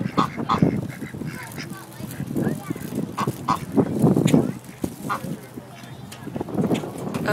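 Ducks or geese honk repeatedly at close range in an outdoor spring setting, loud bursts of honking recurring throughout with some people talking alongside.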